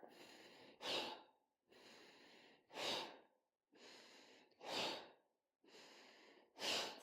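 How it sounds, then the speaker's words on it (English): Four cycles of forceful breathing during an exercise routine, each a steady inhale followed by a sharp, loud exhale, evenly paced and close to the microphone with no talking. "Strong breath."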